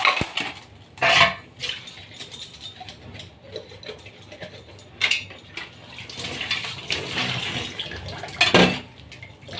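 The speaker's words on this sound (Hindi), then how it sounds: "जब तक मैं कर लेती हूँ बर्तन साफ" Dishes being washed at a home kitchen sink under running tap water, with intermittent clinks of utensils and pots, bursts of splashing water and steady background flow, close and moderately loud.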